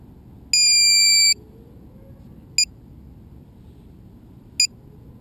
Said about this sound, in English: What's that beeping?